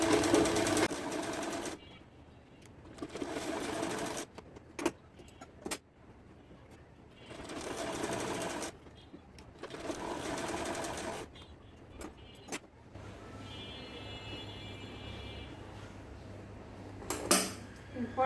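Sewing machine stitching the two sides of baby underwear, running in short irregular bursts with pauses, fairly quiet, with handling clatter between runs.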